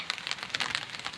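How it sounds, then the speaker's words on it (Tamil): Rain falling outdoors, a dense patter of drops on surfaces, close and steady through a very short stretch with no voices. "மழை பெஞ்சிட்டே இருக்குது கைஸ்"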